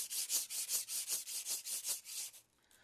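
A Japanese Imanishi 220 whetstone sharpens a knife blade of Hagane steel, giving about a dozen rhythmic, close scraping strokes that end abruptly, with no voices.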